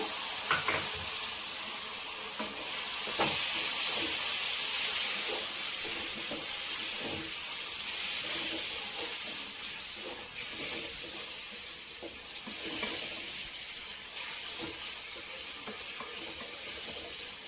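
Tomato and ridge gourd pieces frying in a masala curry, a steady loud hiss and sizzle running throughout with faint scattered clicks and stirring sounds.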